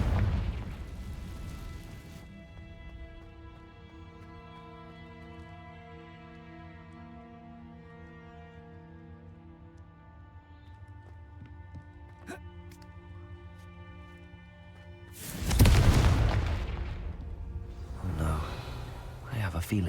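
Loud Confringo spell explosions from Hogwarts Legacy erupt near the end, a sharp burst after a long stretch of sustained tonal music and ambience, with some talk in the game.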